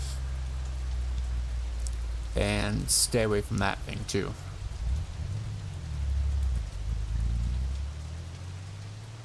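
Rain falling in the video game Long Gone Days, a steady hiss of downpour running underneath throughout, while someone talks over it for a few seconds in the middle.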